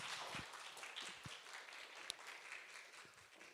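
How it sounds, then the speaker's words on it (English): An audience applauds a speaker at a creative careers event, a soft, fairly distant wash of clapping that stays even and then tapers slightly. "Give me a round of applause for Shanine, please"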